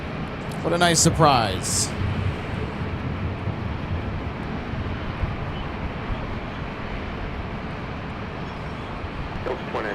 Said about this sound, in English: Look at that, Delta with the Centennial livery, A321neo.